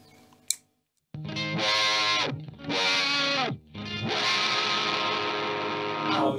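An electric guitar runs through a compressor pedal, playing sustained, distorted chords with effects-unit coloration, loud and continuous after a brief silent gap, with two short dips between phrases.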